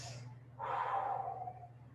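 A single deep breath taken while resting in child's pose during a total body fitness workout, a soft, close, airy breath lasting about a second over a faint low hum.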